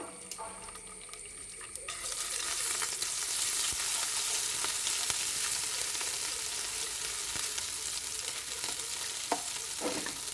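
Ginger garlic paste drops into hot coconut oil left from frying onions for Kerala-style mushroom biryani; after a quieter start, a loud, dense sizzle erupts and continues steadily with occasional stirring clicks.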